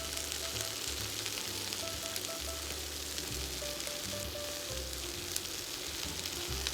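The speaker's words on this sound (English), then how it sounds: "So basically what I want to do is kind of just give it a little hint of cooking on this broccoli." Broccoli sautéing with garlic in olive oil in a pan, giving a continuous soft, even sizzle that stays fairly quiet throughout with no one talking.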